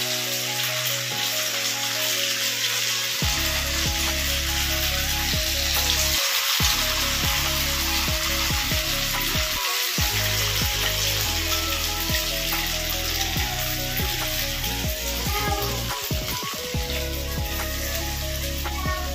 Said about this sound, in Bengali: সুজি, ময়দা আর লেবুর রস, নুন দিয়ে মেখে আমি এরকম বড়ার মতো করে নিয়েছি, কড়াইয়ে তেল দিয়ে এটাকে ভেজে নেবো।